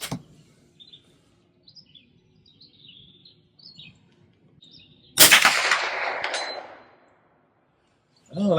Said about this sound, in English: Oh, that one rings. Let's try shooting that one some more.